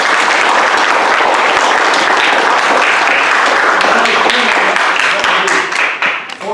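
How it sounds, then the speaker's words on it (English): A church congregation at a Sunday morning service applauds loudly and continuously for several seconds, the dense clapping tapering slightly at the end. "Let's give him a good round of applause."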